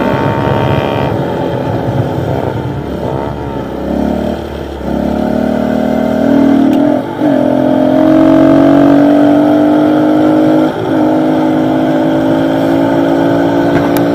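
Several pit bike engines run close by for the whole stretch, one loud bike drowning out another as their revs rise and fall in steady, overlapping drones with brief throttle dips.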